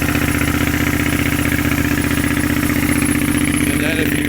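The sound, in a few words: 2017 Triumph Scrambler motorcycle engine running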